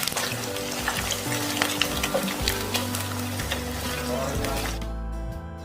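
Pieces of pandugappa fish, a seafood fish fry with raw mango pieces, crackle and sizzle steadily in hot oil in a pan, a continuous close frying hiss that cuts off near the end, with no talking.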